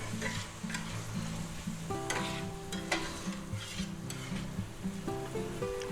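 Shrimp and roasted pork fried rice sizzling in a pan as rice wine cooks off, a low, steady crackle with intermittent scraping stirs and faint tonal hum underneath.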